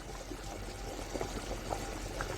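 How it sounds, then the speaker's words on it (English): Ukazi soup with elephant grass simmers in a pot, giving a steady, soft bubbling and popping hiss that runs quietly and unbroken with no talking. "See it as it is boiling."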